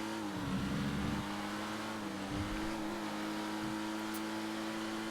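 In a GTA 5 race on PC, a Pariah sports car engine holds a steady, loud tone, punctuated by a few short revving surges and pitch changes.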